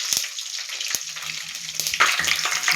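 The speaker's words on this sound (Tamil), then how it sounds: "பூண்டும் வெங்காயமும் எண்ணெயில் பொரிஞ்சிட்டாங்க" Garlic and onion sizzle and crackle in hot oil, a steady close frying hiss with a few sharp clinks of a utensil stirring the pan.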